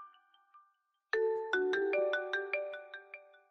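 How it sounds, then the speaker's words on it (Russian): A phone ringtone plays alone after a quiet moment, a bright melodic run of short chiming notes sounding in quick succession, clear and fairly loud. "Саня, ты зачем сам себе звонишь?"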